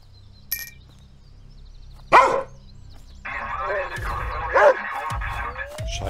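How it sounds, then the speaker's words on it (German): A dog barks in the video game Thief Simulator 2, two loud, distinct barks standing out over a low game ambience and a sustained tonal hum, with someone talking in between. "Da ist der Hund."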